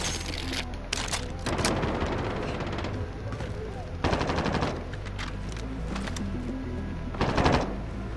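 Repeated bursts of AK rifle fire in Call of Duty: Modern Warfare on Rebirth Island, several loud automatic strings spaced a second or two apart over steady game background noise.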